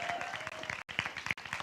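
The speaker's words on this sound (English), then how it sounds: "Round of applause again for Anna, Drew, Ricky," A dance gathering audience gives a round of applause: soft, fairly distant clapping with a few voices mixed in, briefly dropping out twice before resuming.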